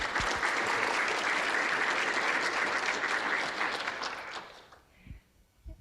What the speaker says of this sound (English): just a quick round of applause to our panelists